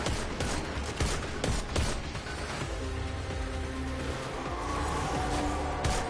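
Rapid gunfire in the video game Destiny 2, dense rattling bursts of shots fired close and loud, continuous over a busy mechanical battle din.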